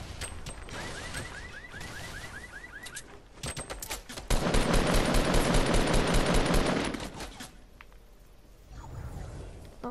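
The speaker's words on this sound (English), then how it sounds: "No, I'm getting shot." Video game gunfire in Fortnite, bursts of shots hitting the player, with rapid rattling volleys growing loud and dense midway before easing off, no talking.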